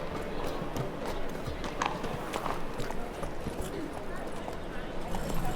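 Horse hooves clip-clop in The Witcher III as a mount is ridden, a steady rhythmic trot heard close under continuous game sound and talking voices.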